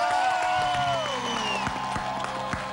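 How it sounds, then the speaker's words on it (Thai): An audience at a Thai New Year stage event claps and cheers in a continuous wash, with scattered sharp claps and a few high, sliding voices rising above the crowd noise. "ปรบมือให้พี่เบิร์ตหน่อยแล้วพวกเรา"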